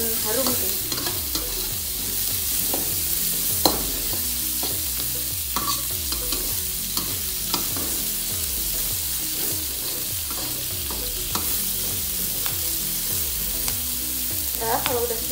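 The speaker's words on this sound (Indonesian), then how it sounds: "kita tumis dulu sampai si udang ini berubah warna jadi oranye" Shrimp sautéed and stirred in a hot pan while making tom yam soup: steady sizzling frying with repeated scraping strokes of a utensil against the pan, close and continuous without talk.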